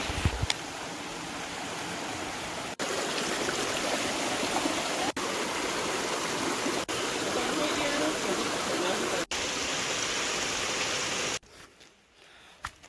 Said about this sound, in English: Me think I want big waterfall